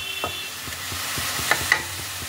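Radish pieces being stirred in a pan as they start releasing water, with a soft steady sizzle under repeated spatula scrapes and two sharper clinks near the end.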